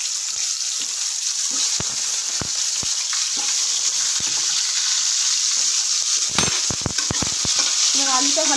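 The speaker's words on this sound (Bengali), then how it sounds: "এবার আলুটা ভালো করে ভাজা হোক।" Potatoes fry in oil in a pan with a steady, close sizzle, broken by scattered spatula taps and scrapes, then a brief burst of clattering stirring near the end.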